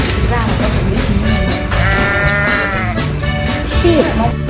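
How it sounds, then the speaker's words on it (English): Sheep bleat repeatedly at close range, wavering calls overlapping one another above a steady low rumble of background noise. "Sheep."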